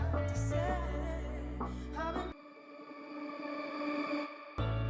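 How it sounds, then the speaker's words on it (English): A vocal sample loop with a reverse reverb effect, swelling, smeared reverb that builds and trails before cutting off abruptly, then a sudden return of sound at the end. "if you want a reverse reverb sound"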